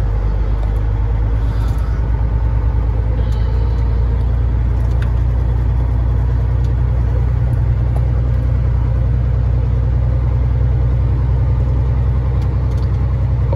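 A semi truck's diesel engine idles with a loud, steady low rumble, running continuously and close by as the truck pulls through a lot to park.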